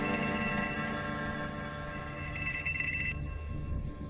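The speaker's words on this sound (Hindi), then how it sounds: "तभी उसका फोन बजा।" A phone rings in a late-night office, a steady electronic ringtone with sustained tonal bands that carries on alone for several seconds at moderate level, with no speech over it.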